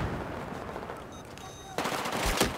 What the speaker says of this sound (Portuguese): Todo mundo meteu tiro de todos os lados.